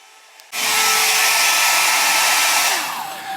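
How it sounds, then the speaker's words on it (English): A hair dryer switches on abruptly and blows with a loud, steady whoosh close by, holding constant for about three seconds before easing slightly near the end. "Turn that hairdryer off so I can hear what I'm saying."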